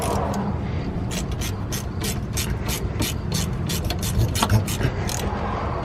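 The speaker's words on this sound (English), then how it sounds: "I'm going to go up to a size 12 socket to remove" Ratchet wrench with a 12 mm socket loosening a car brake line while replacing a strut assembly, giving a steady run of rapid, close clicks over a low mechanical rumble, with no talk.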